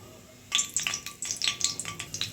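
Whole cardamom and cinnamon hit hot oil in a kadai and sizzle, with sharp crackling pops and spits starting abruptly after a quiet moment and continuing close and steady.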